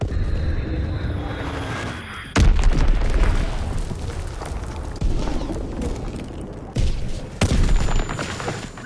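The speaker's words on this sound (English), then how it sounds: "Enemy bomb incoming! Get to cover!" Bomb explosions in a Call of Duty WW2 online multiplayer match: two heavy booming blasts a few seconds apart, then a third, over a constant rumble of battlefield noise and scattered gunfire.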